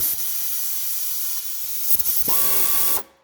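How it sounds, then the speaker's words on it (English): Pneumatic air ratchet spinning a nut between the subframe and lower control arm of a 2002 Honda CR-V: a loud, close, continuous air hiss with a brief break, then a higher whirring run that cuts off abruptly. "take your air ratchet, sneak it in between the subframe and the lower control arm, place the socket over the nut, obviously, and then crank it"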